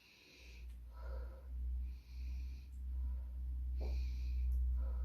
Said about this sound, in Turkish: Burnumuzdan nefes alıp ağzımızdan verelim.